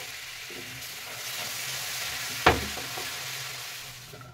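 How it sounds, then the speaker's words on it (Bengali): Water poured into hot caramel for a Christmas plum cake, a sharp hissing burst erupting over a steady background sizzle, then a sustained bubbling crackle while stirred, close and with no voices. "ক্যারামেলটা হয়ে গেছে, এবার আমি এরপরে দিয়ে দেবো জল। জলটা দেওয়ার সময় সাথে সাথেই নাড়তে হবে।"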